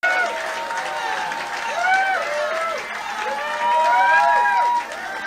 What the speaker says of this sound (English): he can't figure out why all these people are cheering that much